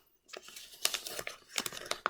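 Thick paper being folded for an origami lotus gives soft, close crinkling and crisp creasing sounds in short bursts.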